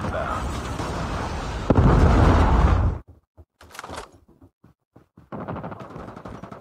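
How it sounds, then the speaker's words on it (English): In the mobile shooter Call of Duty Mobile, a Predator missile explodes as a loud, sustained roar that ends abruptly, followed by scattered gunfire pops and a renewed burst of noise. "Predator missile inbound."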